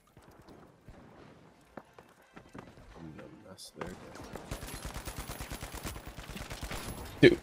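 Rapid bursts of gunfire in The Finals, a dense run of shots starting midway and continuing steadily, loud and close, with a few scattered shots earlier and game sounds underneath.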